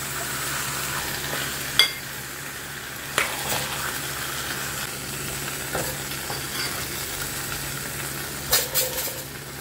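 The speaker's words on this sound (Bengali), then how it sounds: "পোস্ত বাটাটা দিয়ে দিলাম। দিয়ে আবারও একটু কষিয়ে নেব।" Chicken sautéing in a pan with a paste of ground poppy seeds, cashews and raisins, giving a steady close sizzle with a few sharp spoon scrapes and clinks against the pan.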